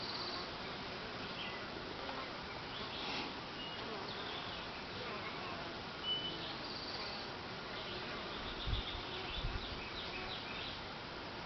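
Honey bees buzz at a hive entrance, a dense soft drone of many insects humming steadily close by, with a few faint bumps and brief louder passes.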